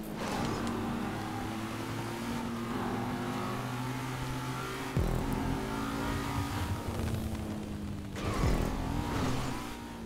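Race car engine in the video game GTA Online, revving and accelerating steadily with gear changes and a couple of sharp impacts, moderately loud, with little or no talk.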